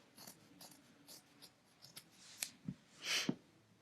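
Fabric scissors snip through a shirt sleeve near the seam in a run of soft, separate cuts, quiet and close, with a louder rustling cut near the end.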